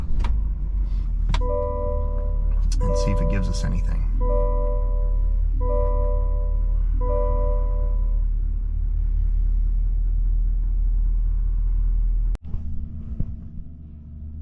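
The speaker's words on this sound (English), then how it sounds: "We'll fire up the truck" A 2025 GMC 2500 AT4X AEV pickup: a low engine rumble with a series of electronic chimes early on, then an abrupt mechanical clunk as it cranks and settles into idle, with brief speech over it.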